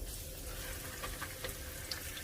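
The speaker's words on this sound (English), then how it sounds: "You'll want to make sure it starts to sizzle." Steady crackling sizzle of pot roast meat searing in a hot pan, with faint pops scattered through a constant hiss.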